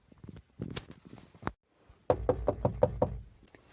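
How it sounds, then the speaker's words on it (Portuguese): Knuckles rap on a wooden cabin door, a short uneven group of knocks, a brief pause, then a quicker run of about six firm knocks, close and clear with no voices. "Bateu a porta, que Pretinha abriu com dificuldade"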